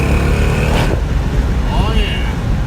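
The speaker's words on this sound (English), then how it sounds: "I got the windows down so you can maybe hear the exhaust a little bit better" A Dodge Challenger R/T with a Borla Atak catback exhaust accelerates, a loud, steady engine drone heard from inside the car with the windows down, mixed with heavy wind noise and someone talking.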